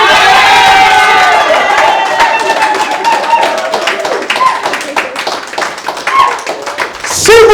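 Church congregation clapping along with cheers and crowd voices, dense rhythmic hand claps running loud throughout beside music and singing.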